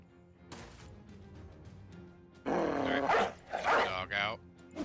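A dog barks several times in the tactical video game Battle Brothers, loud yips and barks clustered in the second half after a quieter stretch of game ambience.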